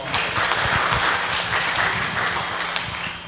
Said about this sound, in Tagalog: Palakpak atong Ginoo